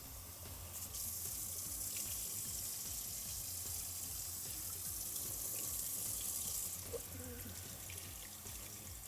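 Film rinse water poured out into a sink after the first rinse of a photographic developing process, a steady splashing, running flow that carries on for the whole stretch with no talking.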